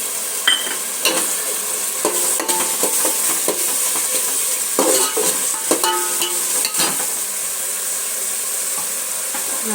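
Potatoes and cornflour slurry sizzle steadily in a hot pan for a crispy chilli potato dish, while a spoon scrapes and stirs in irregular strokes close by, with no talk.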